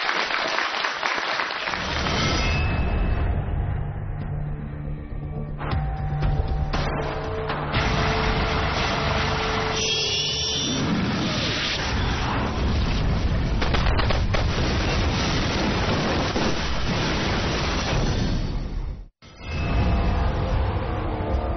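A studio audience claps steadily and loudly for about twenty seconds to welcome Huang Hong, head of the August First Film Studio, onto a Chinese military culture TV set. The applause briefly drops out near the end, then resumes.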